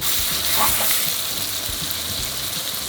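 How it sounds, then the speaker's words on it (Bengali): Duck curry fries with ground spices in a pan, giving a steady, dense sizzle with faint stirring scrapes, close and continuous throughout without any talk. "আর এখন আমরা অন্যান্য গুঁড়ো মশলা দিয়ে আবার কষাবো।"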